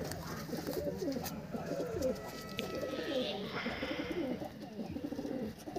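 Red and purple-marked fancy pigeons coo steadily in low, rolling murmurs, continuous and fairly close, amid a busy flock.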